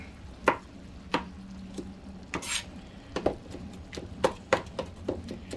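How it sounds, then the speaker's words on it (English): A kitchen knife chops a peeled garlic clove on a cutting board, a string of distinct sharp taps at an uneven, unhurried rhythm, close and clear, with a faint low hum underneath. "and then just chop it up this way"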